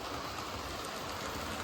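An O gauge model train rumbles steadily around an indoor layout, crossing a junction at slow speed, giving a continuous close-up rolling drone with faint clicking and no voices.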